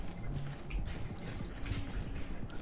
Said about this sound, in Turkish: Ben niye bip bip ses duyuyorum lan?